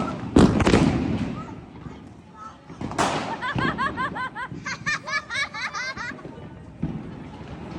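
Diwali firecrackers burst nearby in a couple of loud sharp bangs, then crackle off in a rapid string of pops while people laugh and chatter over them.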